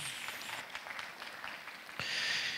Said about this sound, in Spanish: Agradecemos también con aplausos esta gentileza.